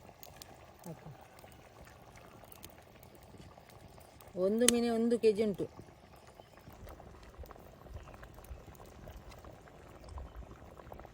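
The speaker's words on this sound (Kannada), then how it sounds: "ಈ ಮಸಾಲ ಕುದಿ ಬಂದಿದೆ" Soft, low bubbling of a fish masala curry simmering in a large pot on the stove, with a brief spoken phrase midway.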